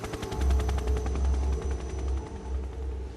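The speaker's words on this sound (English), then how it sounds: "That's the quietest helicopter in all time. Especially for an attack helicopter." An attack helicopter in the video game Metal Gear Solid 3 drones on with a steady low rotor thump and a faint whine, continuous and fairly even throughout.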